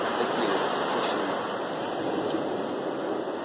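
Sea waves and a strong northwest wind at a windsurfing championship, a continuous broad rushing roar of surf and gusting air with no breaks or voices.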